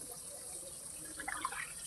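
Water trickles and splashes faintly as rose plants are watered, a quiet running flow that grows a little busier with a few brighter splashes toward the end, with no voices.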